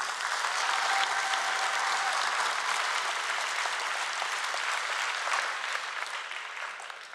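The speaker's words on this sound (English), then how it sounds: "Another big round of applause for all of us." A large audience at the National Science Bowl closing ceremony applauds in a dense, sustained roar of clapping that tapers slightly at the end.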